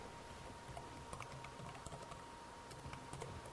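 Numbers typed on a computer keyboard, a quiet, steady patter of light key clicks, close and alone with no voices.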